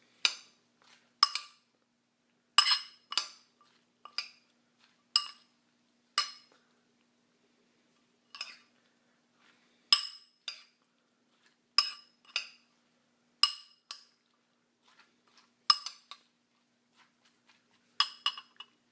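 A spoon clinks against a bowl while homemade salsa is stirred together, a steady run of light, bright taps and scrapes at an uneven rhythm, close and quiet, with soft stirring between the knocks.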